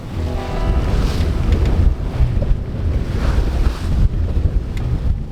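Strong wind gusts buffet a sailboat along a coastline, with a steady loud roar of air and water rush that surges and eases throughout, no voices present.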